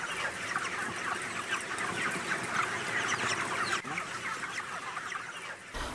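A large flock of chickens raised in group housing, clucking and chattering constantly in a dense overlapping chorus that is steady and moderately loud throughout, with no voices.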